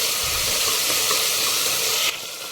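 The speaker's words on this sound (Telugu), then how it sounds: "ఉల్లిపాయ ముక్కలు వేసేసేయండి ఎర్రగా వేగనిద్దాం అలాగే ఇందులోకి అల్లం వెల్లుల్లి పేస్ట్ వేసేయండి బాగా కలపండి" Onion pieces and ginger-garlic paste fry in hot oil for a spicy broad bean and tomato curry, giving a steady close sizzle with soft stirring scrapes. The hiss drops a little near the end.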